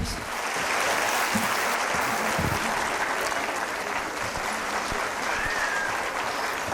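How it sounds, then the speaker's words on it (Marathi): Audience at a women's organisation event in Pimpri Chinchwad clapping for a team, a dense, sustained round of applause from a large indoor crowd that holds steady for several seconds. "एकदा त्या टीमसाठी जोरात टाळ्या झाल्याच पाहिजे"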